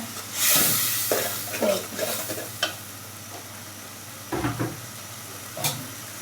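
A spatula stirs spice masala frying in a pan, making intermittent scraping strokes and short bursts over a low, steady sizzle, close by.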